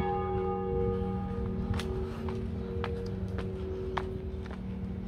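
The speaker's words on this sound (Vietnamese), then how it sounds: "Thì vô tình chúng ta cũng đã nghe được tiếng chuông nhà thờ." A church bell at a Catholic parish church in Vietnam rings in steady, sustained tones, its resonant hum continuous beneath a few sharp footstep-like knocks.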